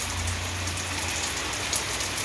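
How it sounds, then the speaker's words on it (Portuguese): Heavy rain pours down on rua 25 de agosto in Joaquim Gomes, Alagoas, as a dense, steady hiss of drops striking the ground, close and continuous with no voices. "Muita chuva abençoada aqui nas Alagoas"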